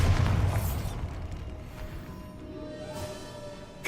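A Bombarda spell detonates in Hogwarts Legacy, a deep booming blast that fades into a rumbling tail, with a second burst sounding near the end.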